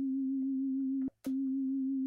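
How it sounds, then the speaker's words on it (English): A plain sine wave tone from an FM8 software synthesizer holds steady and clean, briefly cut by a short click and gap near the middle before resuming at the same pitch. "So a sine wave is the cleanest, you know, waveform there is,"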